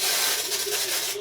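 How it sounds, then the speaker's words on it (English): A short, steady burst of brake cleaner aerosol spray hisses close by, bright and continuous for about a second. "spray a little brake cleaner on a rack"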